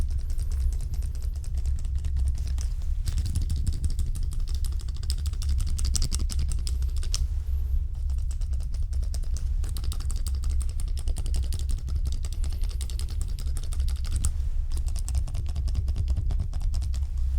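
Rapid, crisp snipping and clicking of scissors trimming hair close up, a continuous stream of small cuts over a low background rumble.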